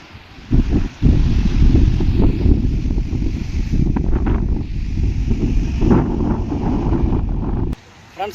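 Wind buffets the microphone at Vizag's RK Beach with sea surf behind it, a loud, rough roar with brief drops, and a voice talks over it in places.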